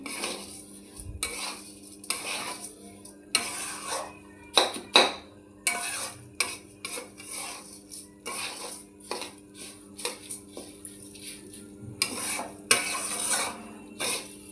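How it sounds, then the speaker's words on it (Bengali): Rice fried and stirred in a pot: repeated close clinks and scrapes of a metal spoon against the pot in uneven bursts, with faint sizzling between strokes and no talk. "চালটাকে ভালো করে ভেজে নিচ্ছি।"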